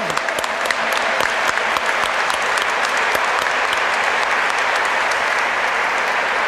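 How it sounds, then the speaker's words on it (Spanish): A congregation at a Mass for the monthly feast of the Virgin of Itatí breaks into sustained, dense applause, loud and even throughout with no break. "¡Fuerte los aplausos a nuestra madre!"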